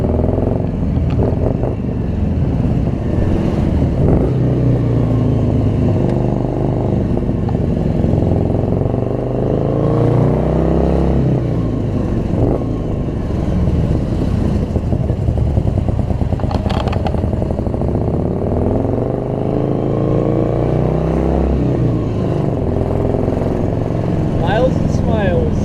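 A British Morgan car driving and accelerating, its engine droning and clattering steadily throughout with swelling revs, while a voice talks over it.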